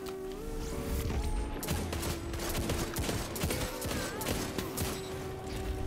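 Hand cannon fired rapidly in the video game Destiny 2, a fast string of loud sharp shots over a continuous game soundscape with a steady tone underneath and no break.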